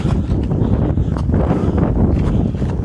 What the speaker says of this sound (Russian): Видно, что дует ветер на выходе